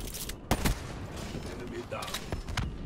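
Gunfire in the multiplayer video game Call of Duty: Black Ops III on the Knockout map, a few sharp shots over a busy, cluttered game background.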